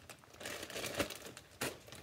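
A resealable plastic bag is handled near the mic, giving continuous close crinkling with sharper crackles around the middle and a louder burst near the end.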